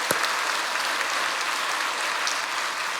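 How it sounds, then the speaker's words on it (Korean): A church congregation applauds at a Seoul church's 50th-anniversary service, a dense, steady wash of many hands clapping at full volume for the whole stretch, with no voices over it. "박수로 영광 돌리기 바랍니다."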